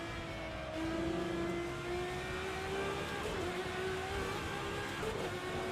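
A race car engine revs and holds a rising whine in the Assetto Corsa racing game during ranked online racing, staying loud and near with brief shifts in pitch and no talk.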